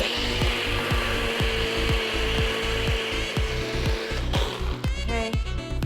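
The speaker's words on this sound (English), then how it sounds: "I'm going to add my ginger root, 1 cup of water, and then I'm going to blend that together to break down the ginger" A blender whirls ginger root with a cup of water, giving a loud, close motor roar with a rapid, regular chopping pulse as the pieces churn and knock against the jar, with no speech.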